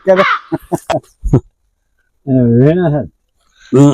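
Crows caw loudly and close by on a farm at wheat time, first a quick series of short harsh calls, then after a pause longer drawn-out caws.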